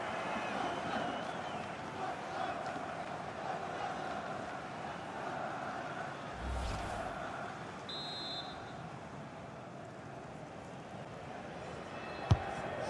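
Stadium crowd in a FIFA 21 football match, France against Germany, swelling in steady broad applause and murmur after a diving save, continuous and fairly even, with a brief whistle-like tone and a sharp click near the end.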